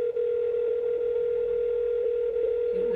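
A phone line tone during a call, a loud steady single-pitched electronic tone held without break throughout, with no voices over it.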